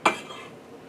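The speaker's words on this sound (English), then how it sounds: "now I'm just gonna kinda chop up this liver and this gizzard to put in that rice" A single sharp knock of a knife chopping chicken liver and gizzard, with a short ringing tail, heard once up close.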